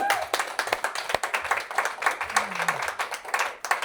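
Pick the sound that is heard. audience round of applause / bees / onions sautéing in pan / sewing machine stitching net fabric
audience round of applause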